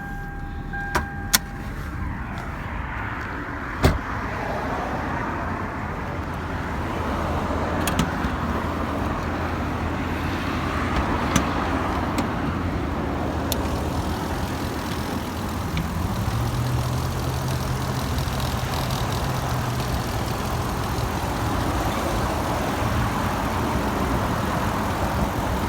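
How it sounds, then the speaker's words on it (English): A 1998 Lexus LS400 engine idles steadily after a brief start-up, a low smooth hum holding near the microphone for the whole stretch with a few clicks early on and no talking. "So as you can hear, it runs great, runs and drives well"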